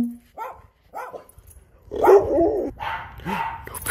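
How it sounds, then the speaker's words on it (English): A small dog, probably a chihuahua, barks in a few sharp bursts indoors, close by, with a person speaking briefly between barks. "What are you barking at the fruit?"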